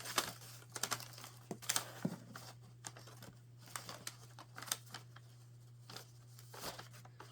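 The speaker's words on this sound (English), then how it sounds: "We can cut off the excess." Excess Dollar Tree material for an advent calendar being trimmed, faint crisp snips and crinkles in an irregular run over a steady low hum, close by.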